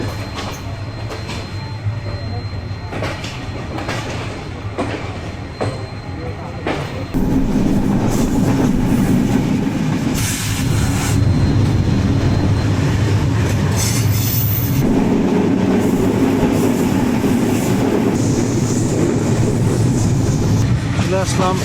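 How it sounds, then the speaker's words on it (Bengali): A passenger train pulls out of a station on a run from Chapai toward Joypurhat in Bangladesh, with a loud, steady rumble of wheels on rails that swells after the first few seconds and carries on throughout. Faint voices can be heard beneath it. "এইবার আমাদের ট্রেন ছাড়লো"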